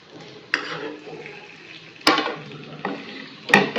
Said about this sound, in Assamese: এতিয়া আমি প্লেটত লৈ লওঁ পনীৰখিনি কেৰাহীৰ পৰা, তেলৰ পৰা উলিয়াই লৈছোঁ